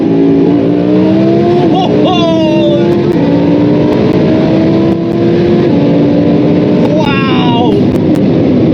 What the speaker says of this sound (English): now let's give Sport a try. That's 1100 horsepower with a big kick down